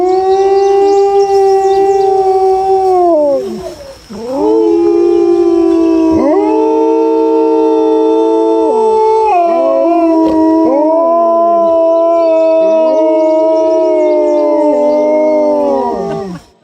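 Red wolves at a sanctuary howl in a long chorus of layered, sliding wails, loud and close, rising and falling together with a brief dip partway through and no talk.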